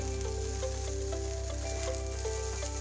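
Shrimp fried rice sizzles steadily in a hot pan while being stirred and combined, a continuous close frying hiss with faint scraping and tapping from the mixing; no voices.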